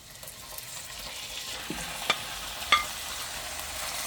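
Meat frying in a hot pot makes a quiet, steady sizzle, broken by a few brief clinks and scrapes of a utensil near the end.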